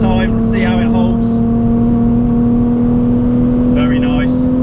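A BMW Z4 accelerating at full throttle on a race track, its engine note a strong steady drone rising slowly in pitch and heard close from inside the car, with brief wind or tire noise bursts.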